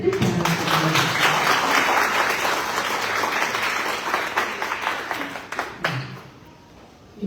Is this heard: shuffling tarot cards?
no